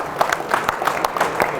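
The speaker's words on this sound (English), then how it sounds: "So we need to give them a bigger round of applause." An audience claps during the unveiling of a 1970 Oldsmobile W31 at a muscle car and Corvette show, giving brief, loud, scattered applause with distinct individual claps.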